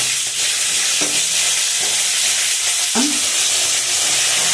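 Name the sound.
green chillies sizzling in tempering oil, stirred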